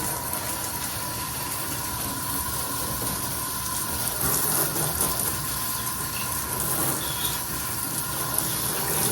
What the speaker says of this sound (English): Also good to like rinse off the dust from the foliage and even the soil